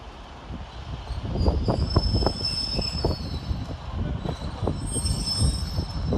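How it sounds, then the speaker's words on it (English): A Northern Rail class 150 diesel unit pulls into Doncaster station, wheels squealing with high whines over a rumbling, clanking rolling sound, fairly close and steady throughout. "Arriving on the far side to terminate with a Northern Rail service from Hull is 150"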